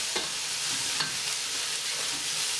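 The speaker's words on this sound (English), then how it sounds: "We're going to stir them a little bit. Yes, I want to brown them a little bit." Chicken pieces browning in a hot pan for chicken marsala give a steady, close sizzle, with a few soft scrapes and clicks as they are stirred.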